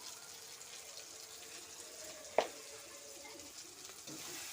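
Chicken curry stirred in a frying pan, a steady soft sizzle with faint scraping and one sharp clack of the spatula against the pan midway.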